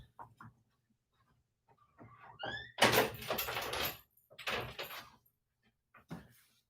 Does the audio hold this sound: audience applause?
no